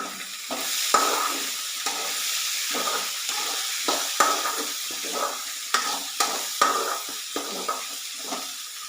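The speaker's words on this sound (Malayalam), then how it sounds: "ഇതൊന്ന് അടി പിടിക്കാതെ ഇളക്കിക്കൊണ്ടേയിരിക്കണം" A tomato curry is stirred in a frying pan: steady sizzling runs throughout, broken by a regular rhythm of scraping spoon strokes against the pan.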